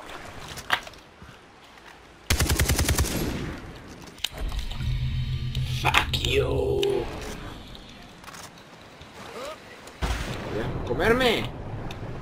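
Gunfire in the video game Far Cry 3, with loud sharp bursts near the start and end, a broad rumbling stretch mid-clip amid water and game ambience, and an excited voice talking over it.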